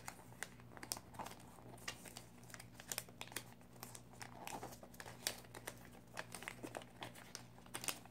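Paper is being folded into an origami praying mantis: soft crinkles and sharp creasing snaps come in irregular bursts over a quiet background, close and fairly faint.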